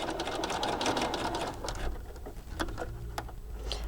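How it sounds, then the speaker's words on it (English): A sewing machine runs steadily as it stitches a dress front lining to the back lining on a child's lined garment, then pauses and restarts with short clicks and bursts near the end. "And now I am sewing again the dress front lining to the dress back lining"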